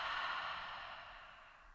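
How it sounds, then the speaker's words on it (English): A single long, breathy exhale during a yoga flow in mountain pose, soft and airy, fading gradually over a couple of seconds without any talking. "Big exhale."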